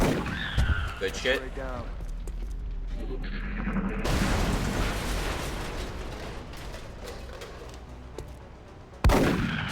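Gunfire in the turn-based tactics game XCOM: Enemy Within: a burst of shots and an explosive crack with a sustained rumble, then a sharp report near the end, with a voice talking over parts of it.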